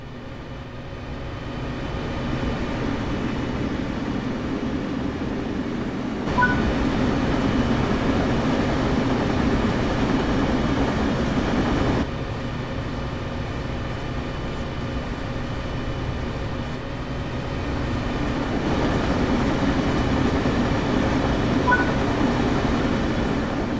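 A train rumbles along steadily in Train Sim World 5, a constant low drone and rhythmic rail noise, its intensity shifting slightly in a few distinct sections.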